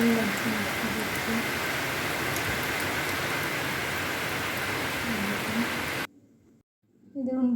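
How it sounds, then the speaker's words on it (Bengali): Steady rain pours down in a broad continuous hiss on a Bengal homestead, loud and unbroken for several seconds before cutting out abruptly near the end, with faint voices briefly underneath. "ভালো লাগছে বৃষ্টি দেখতে।"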